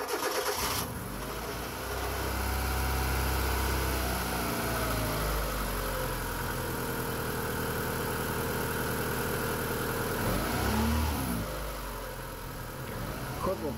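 A car engine starts and settles into a steady idle after a cold-start oil additive, running loud and close with a low rumble and faint knocking for several seconds.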